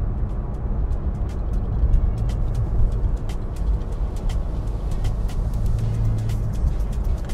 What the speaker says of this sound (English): I'm just gonna drive around for a little bit